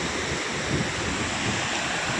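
Falling water from a small waterfall beside Patgaon dam gives a continuous close rushing roar, level and unbroken, with some wind buffeting and no voices.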